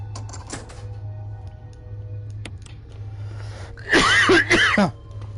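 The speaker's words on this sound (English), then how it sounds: "I know good old cough in the old video is not very good, but sometimes can't be helped." A man coughs in a short, loud burst of throat-clearing coughs near the end, close to the microphone, after faint clicks and a low steady hum.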